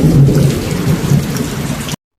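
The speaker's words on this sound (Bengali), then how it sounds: "আর বাজ যা পড়ছে, শুধু বৃষ্টি পড়লেও তো হতো, কিন্তু বাজ অতিরিক্ত বেশি পড়ছে।" Heavy thunderstorm rain pouring down with deep rumbling thunder rolling underneath, loud and close, ending abruptly.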